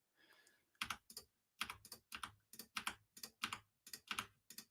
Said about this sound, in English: I just got a new mechanical keyboard that is probably not streamer friendly